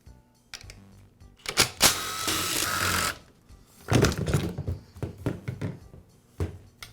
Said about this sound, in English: The tank is secured with just 3 bolts. I'll go ahead and remove them.